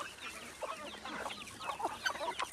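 Free-range desi chickens on a small natural farm plot give off a steady scatter of soft clucks and short calls, several birds close by, with a couple of sharper squawks near the end.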